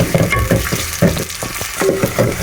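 Two medium onions sautéing in hot oil for a mixed vegetable chicken curry, with a steady broadband sizzle and occasional stirring scrapes, loud and continuous with no talking.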